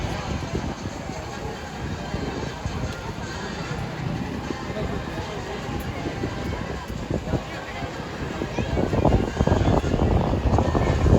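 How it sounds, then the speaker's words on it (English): Loud, continuous engine roar of a jet aircraft with an F-14 engine passing overhead at an airshow, building slightly toward the end, with broadband rumble throughout. "This plane's got a really distinctive sound with that F-14 engine in it."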